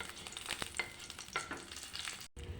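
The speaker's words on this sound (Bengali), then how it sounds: "কুমড়ো রান্না করবো, তো গোটা জিরে ফোড়ন দিয়ে দিয়েছি।" Whole cumin seeds sizzle in hot oil for a pumpkin curry, a close, quiet, crackling fry with scattered pops and a brief stir, no one speaking.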